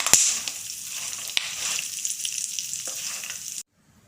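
Walnuts and seeds frying in ghee over a low flame give a continuous soft sizzle with a few sharp clicks of stirring. The sizzle stays steady and close, then cuts off abruptly near the end.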